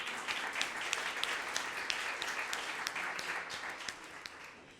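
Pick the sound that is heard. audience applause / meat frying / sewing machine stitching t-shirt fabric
audience applause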